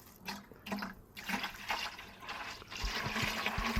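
Thick sugar syrup poured into a beehive feeder, a close, uneven liquid gurgle and splash with short pouring bursts and low glugs toward the end.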